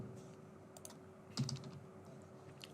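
Faint, quiet typing of a test card number on a computer keyboard, with a handful of soft, irregular key clicks and one slightly louder burst of keystrokes midway.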